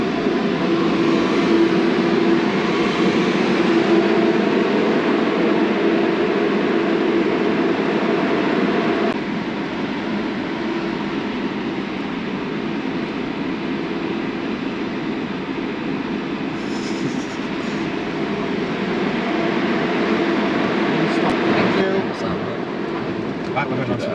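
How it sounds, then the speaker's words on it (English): Massive Eurotunnel shuttle trains give off a steady, loud, low rumbling drone that runs unbroken throughout, with faint muffled voices underneath. "These are massive trains."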